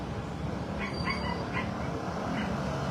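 A dog whimpers in soft, high yelps spread across the clip, faint and somewhat distant over a steady roar of background noise near a house fire in Surigao City.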